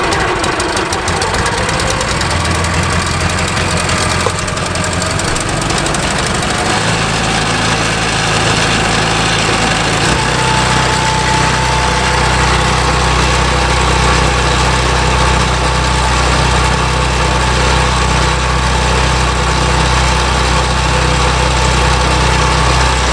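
A small gasoline engine on a pest-control rig sputters into life and settles into a loud, steady idle that shifts pitch slightly as it warms, with no voices.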